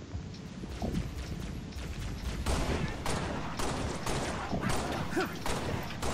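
Rapid gunfire from co-op Halo: Reach play, a dense, continuous fusillade of shots with bursts rising over steady game noise for the whole stretch.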